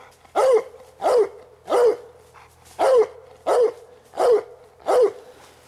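A hunting dog barks steadily outdoors during a nighttime coon hunt, seven loud, evenly spaced barks roughly every 0.7 seconds, close to the listener with no talk over them.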